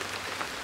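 Rain falls on a tent, a dense, even patter of drops on the fabric close by, with no voices.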